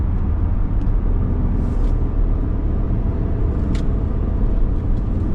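A car engine accelerates hard on the road to overtake a much slower car, its steady low rumble loud and continuous throughout, with no talk over it.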